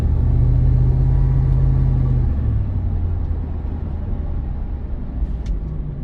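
A 2000 Ford F-150 SVT Lightning pickup engine drones low and steady up close, its pitch dipping once partway through, with no distinct flare standing out.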